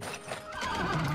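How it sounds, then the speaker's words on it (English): A horse neighs in the video game Bleak Sword DX, a loud, close whinny that rises and wavers for about a second with no talking over it. "Have I always had that horse?"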